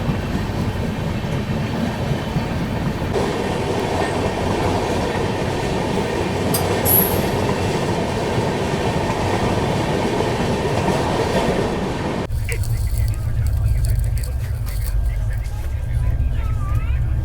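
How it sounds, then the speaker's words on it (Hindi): The Rajdhani Express passes through Ghaziabad Junction without stopping, with a loud, steady rumble of wheels on rails and rhythmic clatter, a brief squeal, and a sudden shift to a deeper, rougher rumble near the end. "गाजियाबाद जंक्शन स्किप मार रही है अपनी ट्रेन"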